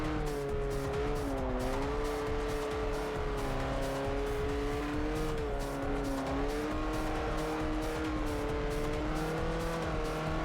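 A racing car in Forza Motorsport 4 loses grip and skids, its engine droning steadily at close range with shifting pitch and a continuous tire squeal, no talking over it.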